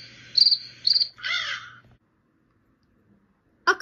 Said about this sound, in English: A cricket goes.